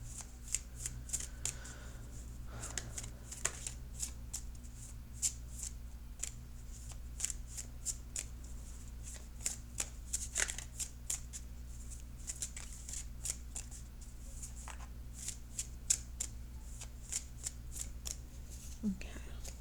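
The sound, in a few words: shuffling tarot cards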